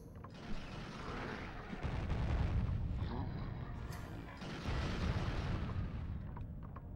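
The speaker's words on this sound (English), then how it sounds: "Okay, fire cannon down." Ship cannon fire and explosions in Legend of Spyro: The Eternal Night, heavy low booms rolling into one another in two long surging waves of rumbling blasts, loud and continuous without speech.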